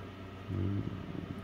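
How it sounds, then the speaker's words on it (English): Electric fan running in a small home workshop, a steady low hum with a stronger tonal drone swelling briefly in the middle, close and alone with no talk. "Sorry about the fan."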